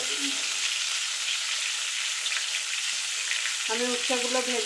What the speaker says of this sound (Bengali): উচ্ছেগুলো পেঁয়াজগুলো আমার সুন্দর ভাজা হয়ে গেছে